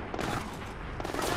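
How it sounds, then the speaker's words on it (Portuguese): Pistol shots ring out in the video game Splinter Cell Blacklist, a rapid, dense volley of cracks from a terminal area that runs through the whole brief moment, moderately loud and slightly distant. "Estamos ouvindo tiros de pistola no terminal"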